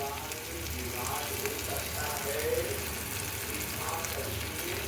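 Spices with kasuri methi and a sugar-free tablet fry softly in a pan for paneer burji, giving a quiet, continuous sizzle with faint stirring scrapes.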